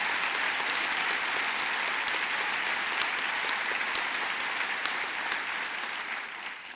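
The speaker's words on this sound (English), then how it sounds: "Let's give her a big round of applause, Maria Bartiromo." Sustained applause from a large crowd at a governor's public announcement event, steady and dense throughout, tapering slightly at the end.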